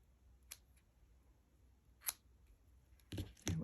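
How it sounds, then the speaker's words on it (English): Scissors trim paper in a few sharp, separate snips, quiet and close in a hushed room, followed by a couple of louder rustling handling sounds at the end. "I'm going to trim those a little bit"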